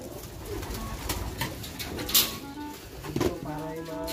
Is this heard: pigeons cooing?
yes